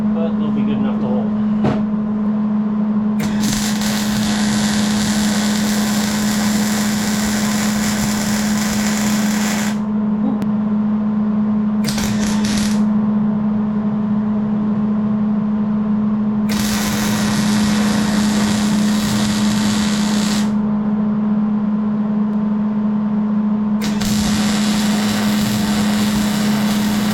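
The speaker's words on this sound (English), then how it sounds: "I'm extremely low on gas, so these welds are probably not going to be the best, but they'll be good enough to hold" MIG welding steel for an alternator bracket with almost no shielding gas: several bursts of harsh broadband crackle and sizzle, each a few seconds long, separated by pauses, over a steady low electrical hum.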